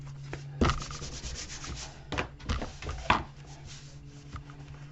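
A bone folder burnishes freshly glued paper on an album cover against a flat table, making close, dry rubbing strokes in irregular bursts with a few sharper taps and scrapes.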